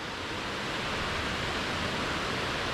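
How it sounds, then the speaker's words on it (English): A Scottish waterfall swollen after heavy rain roars as a constant, dense rush of falling water, steady and fairly distant, with no voices. "You can hear the waterfall down there."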